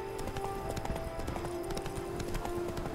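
Roach, a horse in The Witcher 3 on PC, gallops with rapid, steady clip-clop hoofbeats under a sustained musical drone.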